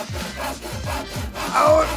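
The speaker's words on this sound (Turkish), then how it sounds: "Çünkü bunu testereyle keseceğim." A saw rasps back and forth through a frozen watermelon in quick rhythmic strokes, about four or five scraping passes, close and loud.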